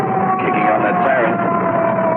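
An emergency vehicle siren wails continuously on the way to a hospital, its pitch sweeping up and down, loud and close, with a voice talking over it.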